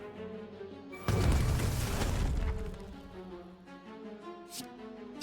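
Heated Shot cannon attack in the video game Slay the Spire: a single deep boom with a crackling burst, fairly quiet over soft background game music.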